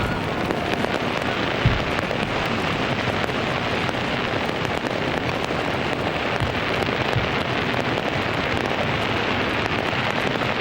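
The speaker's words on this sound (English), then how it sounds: "fireworks running right the way up the river from Tower Bridge to Westminster" Dense, continuous crackle and popping of a large fireworks display along the River Thames in London, running from Tower Bridge to Westminster at the millennium celebration, heard from a distance as a steady wash without clear individual bangs.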